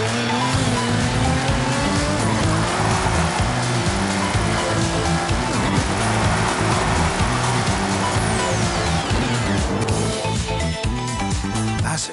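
A Nissan GT-R with a VR38 DET engine drifts in Forza Horizon 5, a loud sustained engine drone under continuous squealing tires, running throughout without a break.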